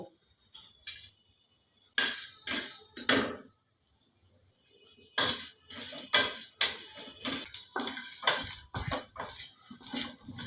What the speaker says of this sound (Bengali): এটা আমি একটু ভেজে নেব, শুকনো খোলায় ভেজে নেব